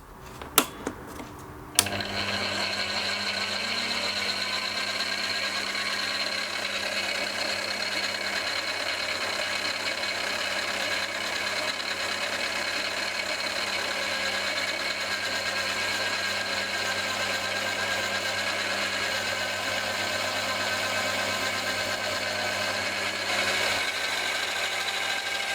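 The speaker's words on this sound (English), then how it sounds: "But now, let's do some machining." Metal being cut on a lathe in a home workshop: a steady, sustained machining whir with a constant hum runs continuously after a brief start-up, close and fairly loud, with no talking.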